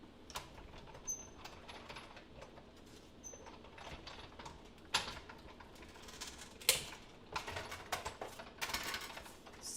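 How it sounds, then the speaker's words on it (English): A die cut machine cuts embossed paper, producing quiet mechanical clicks, rattles and scattered sharp clacks that grow busier toward the end. "So I'm going to take this to my die cut machine and cut it."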